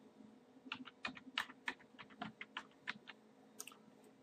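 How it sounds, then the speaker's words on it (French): Keys tapped on a computer keyboard while typing a folder name in Windows 7, a quick run of about a dozen close, crisp keystrokes with no talking. "Je tape Dominique, je fais Entrée"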